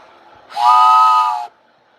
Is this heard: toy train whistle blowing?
yes